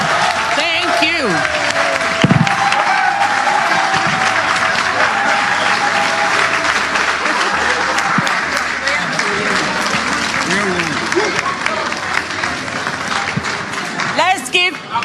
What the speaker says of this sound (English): Let's give Honorable a big hand of applause again.